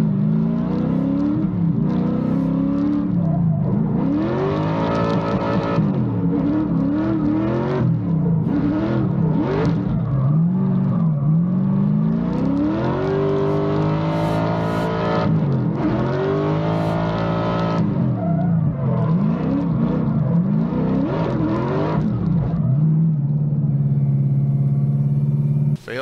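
Formula Drift race car at a St. Louis event, its engine revving hard and repeatedly rising and falling in pitch, loud and close, then settling into a steady idle near the end.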